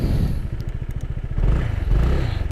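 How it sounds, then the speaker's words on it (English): A Honda PCX 160 scooter engine cranking and catching, with a rapid close thrumming idle pulse and a slight rise in revs midway, loud and alone without voices. "Okay, starting up."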